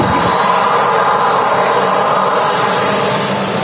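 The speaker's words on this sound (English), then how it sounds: "Ryanair 737 already up in the air" A Ryanair Boeing 737 jet climbs out after takeoff from Manchester Airport, a loud, continuous engine roar with a broad rushing hiss and faint whine that holds steady throughout.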